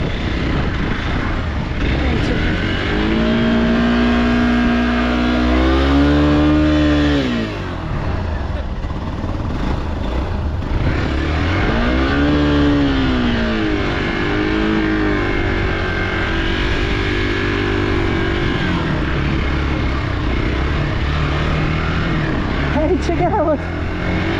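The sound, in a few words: car engine revving while slipping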